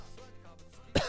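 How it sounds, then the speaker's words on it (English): One sudden, harsh cough from a lingering illness bursts out close and loud near the end, after a stretch of quiet room tone with faint background game audio. "Excuse me for the coughing."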